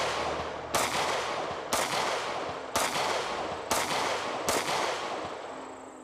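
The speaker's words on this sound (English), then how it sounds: "Let's put some rounds down this thing." A SIG 320X Compact pistol fires five loud, sharp shots at an outdoor range, spaced roughly a second apart in a steady rhythm. Each report is close and punchy, with a short echoing tail and no talking.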